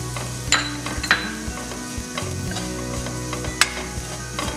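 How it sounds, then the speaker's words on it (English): Freshly grated and desiccated coconut roasts in a pan for coconut laddoo, with a soft steady sizzle and a few sharp scraping knocks of a spatula stirring it, close and clear with no talking. "Roast it nicely."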